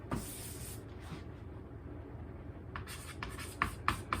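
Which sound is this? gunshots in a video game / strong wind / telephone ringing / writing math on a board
writing math on a board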